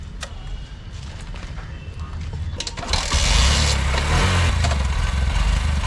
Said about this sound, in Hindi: बाइक ले ली है शुभम की।